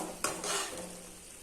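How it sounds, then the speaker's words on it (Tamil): Goat brain being gently turned in a cooking pan gives a sharp utensil scrape against the pan, followed by soft, low sizzling that fades over a second or so, with no talk. "பெரட்டி போட்டு அப்படி நாம் வேக வைக்கலாம்."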